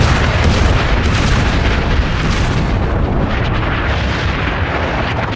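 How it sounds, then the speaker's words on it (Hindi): A missile strike produces a dense, continuous roar of heavy blasts and rumbling booms, loud and unbroken throughout with no voices. "एक बार एक साथ 30 मिसाइलें दागी गई हैं।"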